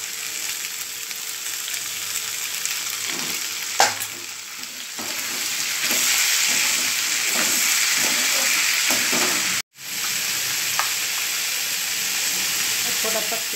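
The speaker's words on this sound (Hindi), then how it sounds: "कुटा हुआ मसाला डालेंगे," Crushed garlic, ginger and chili masala frying in a hot pan, a steady loud sizzle with occasional stirring scrapes and a sharp clink near the middle, the crackle briefly cutting out before resuming.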